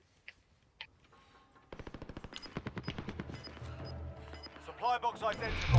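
Video game gunfire with sniper shots, heard as a few isolated shots followed by a fast rattling burst of automatic fire that grows louder, with people talking over it.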